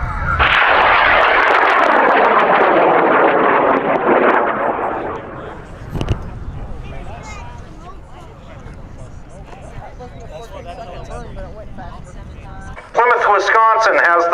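A high power rocket lifts off with a loud, sustained roaring thrust that fades over several seconds into distant rumble, a sharp crack midway, and a crowd of people talking and cheering at a launch event.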